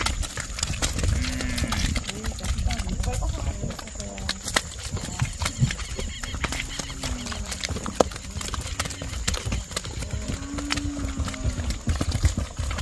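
A large herd of Caracu cattle moves along a farm lane, lowing in long moos over a steady shuffle of hooves, with people talking throughout.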